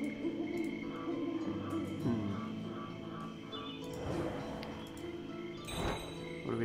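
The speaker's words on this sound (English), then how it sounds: "Lots of owls here." Owls hooting in the Dark Parables hidden-object game, repeated tonal hoots layered over a low ambient background, with a brief clattering crash near the end.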